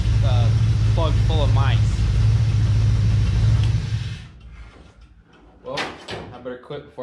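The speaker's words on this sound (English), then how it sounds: "I'd say there's pretty bad exhaust leak towards the back somewhere" A 1967 Chevrolet Camaro barn find engine runs loud and rough for about four seconds with a bad exhaust leak toward the rear, then cuts off, leaving faint clunks and someone talking.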